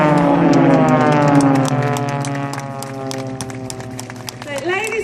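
Propeller aircraft of the Blades display team roar past and break apart at the Scottish Air Show 2014, a loud sustained drone with a falling pitch as they pull away, and a voice talks over it.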